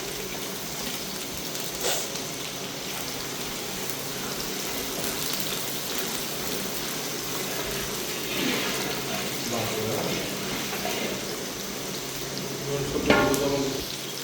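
Panch phoron spices and onions frying in a pan for a vegetable dish, with a continuous sizzle, scattered clinks of utensils and a louder scraping stir toward the end.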